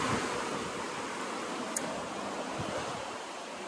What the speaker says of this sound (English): The wind's really picking up here.